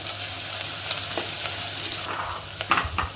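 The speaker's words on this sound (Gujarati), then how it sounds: "આપણે કાંદા છે એ થોડાક સાતળી લેવાના છે મીડ ગેસની ફ્લેમ છે એ બહુ હાઈ નથી રાખવાની" Onions sauté in a pan over a medium gas flame for vegetable biryani, with a steady close sizzle and a few scraping stirs toward the end.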